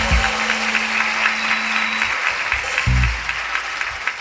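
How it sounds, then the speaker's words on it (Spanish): Studio audience applauding an actor on a live comedy talk show, a steady wash of clapping throughout with a low hum and a brief voice near the end. "Un aplauso merecido"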